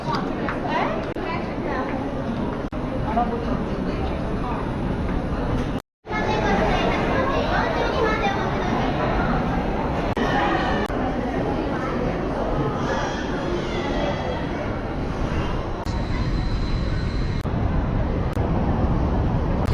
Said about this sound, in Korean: 백화점이라는 곳을 왔습니다 사람 진짜 많다